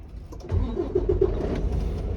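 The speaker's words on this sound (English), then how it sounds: "Now I can start the vehicle." A semi truck's diesel engine cranks and catches inside the cab, settling into a steady low rumble with a faint whine over it, heard close and alone.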